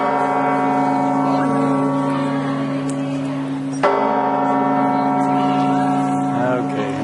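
A large bell at the rear of the Santiago de Compostela cathedral rings with a long, sustained hum. One fresh strike near the middle renews the resonant tone, heard outdoors at moderate distance.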